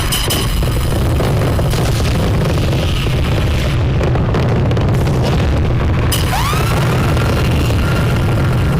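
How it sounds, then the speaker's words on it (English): Loud, continuous booming and crackling fireworks blasts fill the whole stretch at an outdoor brand unveiling in Uganda, with whistling streaks rising near the end. "Our fireworks are going on."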